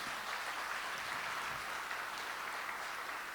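A large audience applauds at the Artel 5G network launch event: a dense, steady wash of many hands clapping at once, moderately distant and sustained without a break.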